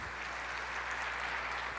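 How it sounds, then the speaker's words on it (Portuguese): A congregation applauds children who influenced their parents, a dense, even wash of clapping held steady throughout with a low hum beneath. "vamos dar uma salva de palmas para esses filhos que influenciaram os seus pais."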